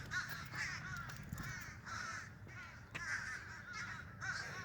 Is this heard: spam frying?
no